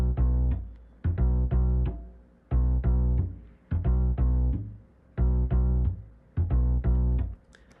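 Mellow Bass from UJam's Virtual Bassist plays a simple bass line, short plucked low notes in a repeating syncopated phrase that cycles several times, loud and close with no voices.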